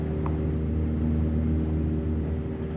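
Steady, droning engine and propeller hum fills the cockpit of a light airplane on a VFR flight nearing landing, constant and close with no voices.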